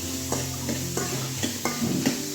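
Grated beetroot and carrot for chutney sauté in a pan with a low, continuous sizzle. A spoon scrapes and stirs through them in quick, regular strokes, close up, with no talking.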